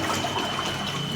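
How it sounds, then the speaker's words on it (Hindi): A cooler motor pumps water out of a flooded basement, a constant rushing, splashing stream with a faint motor whine, close and steady. "यहाँ पर पानी कैसे निकल रहा है उसको देखिए"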